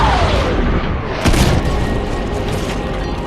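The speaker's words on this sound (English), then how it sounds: "The nuclear explosion blinds everything." A nuclear explosion in a movie scene: a sustained, loud, broadband roar that swells with a sharp blast near the midpoint, then rumbles on heavily without pause.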